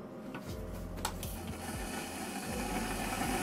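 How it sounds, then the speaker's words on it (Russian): The cooling fans of an EcoFlow DELTA 2 power station whir in a steady hum under heavy load from a kettle, with a low mechanical drone and no speech. "Моментально заработали вентиляторы."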